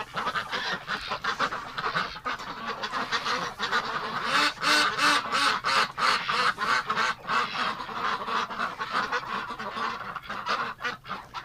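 A flock of ducks quacks and honks constantly, many overlapping calls close by, loud and busy throughout.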